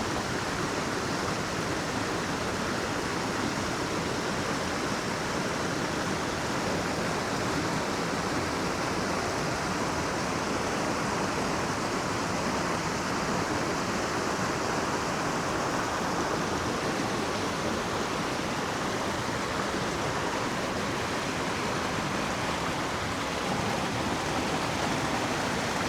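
A big waterfall right behind a campsite in the North Georgia woods roars steadily and loudly, a dense unbroken rush of falling water filling the whole scene with no voices over it.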